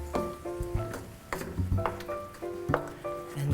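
Heavy cream being stirred into bananas foster in a hot pan, a soft sizzle under repeated clinks and scrapes of a utensil against the pan, close and fairly quiet.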